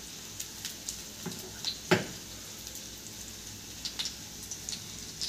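Bread toasting in ghee in a pan over the lowest flame, a soft steady sizzle with faint scattered crackles and one sharper tick, close and quiet with no voice.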